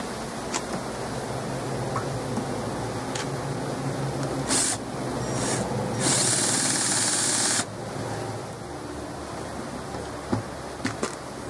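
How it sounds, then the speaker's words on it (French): A power drill drilling the last hole for a rivet, a continuous whirring motor hum with a brief higher-pitched surge partway through, steady and close. "Perçage du dernier trou."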